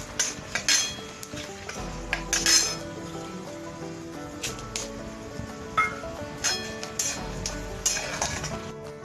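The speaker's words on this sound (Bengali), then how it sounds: "এবার এই ফোড়নগুলো দিয়ে আমি 30 সেকেন্ড মতো নাড়াচাড়া করব।" A utensil stirs tempering spices in a pan for chana dal with coconut and paneer, with irregular metallic clinks and scrapes over a faint, soft sizzle and no talking.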